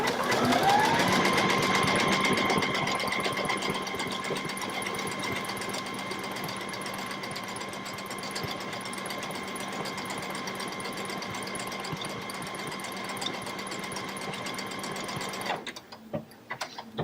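Baby Lock sewing machine running steadily as it stitches out a pattern: a continuous, even mechanical whir with a steady tone, close and uninterrupted for about fifteen seconds before it stops.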